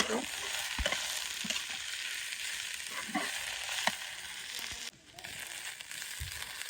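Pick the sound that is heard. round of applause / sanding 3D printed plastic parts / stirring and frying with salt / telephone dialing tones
stirring and frying with salt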